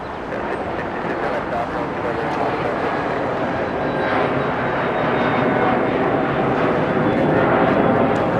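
A big airliner nicknamed the Queen of the Skies taxis at Los Angeles airport, its jet engines giving a steady, loud, broadband roar that holds without a break.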